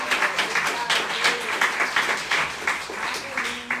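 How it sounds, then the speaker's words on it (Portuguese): A congregation at a Nova Vida church in Catete breaks into sustained applause, many hands clapping in a full, even roar, with a few voices rising over it. "Uma salva de palmas ao Senhor."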